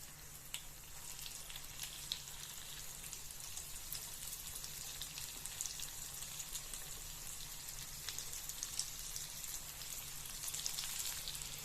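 Peanut vadas frying in hot oil, a steady close sizzle with dense crackling bubbles running continuously throughout.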